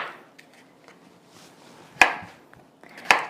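A knife chops a bell pepper into chunks on a cutting board, two sharp, loud thuds about a second apart over quiet room sound, with faint scraping between them.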